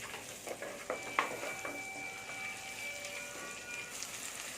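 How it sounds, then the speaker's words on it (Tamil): Onions fry in oil with soft, continuous sizzling and crackling in a pan, with a few faint scrapes of stirring near the start. "இப்போ எண்ணெய் ஊற்றி இந்த வெங்காயத்தை வதக்கிட்டு"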